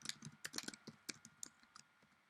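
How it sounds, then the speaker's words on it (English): Quiet, close typing on a computer keyboard: a rapid irregular run of light key clicks that thins out toward the end. "double click, and then type in"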